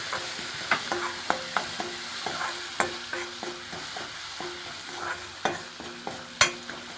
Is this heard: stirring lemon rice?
yes